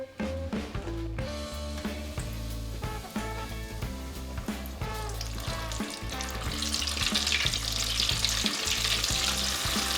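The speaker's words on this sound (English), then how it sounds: "We've got this oil up to 375 degrees. It's time to fry." Steady, loud sizzling and crackling of chicken wings deep frying in 375-degree oil, continuous throughout and growing brighter and more hissy toward the end.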